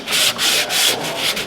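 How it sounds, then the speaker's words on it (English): Hand sanding with sandpaper during caravan servicing in a workshop: steady back-and-forth rubbing strokes, about four broad scratchy passes in quick rhythm, close and fairly loud, with no talk. "Can I get on with the sandpaper in now?"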